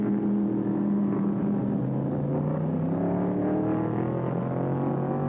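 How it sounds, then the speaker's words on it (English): Stock car racing on a track, with several engines roaring loudly and continuously, their pitch climbing steadily as the cars accelerate past. "Cale Yarbrough displays the flamboyant style that has thrilled stock car crowds as he almost flies around the track"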